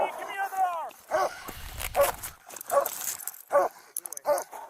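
Amid a shouting arrest, a police dog lets out repeated sharp barks and yelps in short bursts, close by, mixed with whining and people talking.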